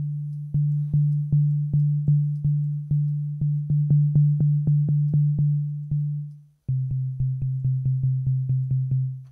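A steady low synthesized tone with a phaser effect pulses with regular rhythmic clicks, briefly cutting out before resuming; close, moderately loud, with no voices.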